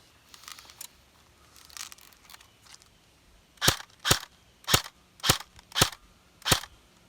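A CYMA AKS-74U airsoft gun shooting black .36 gram BBs gives six sharp, snappy pops spaced about half a second apart, close and clear over a quiet background after a few fainter clicks.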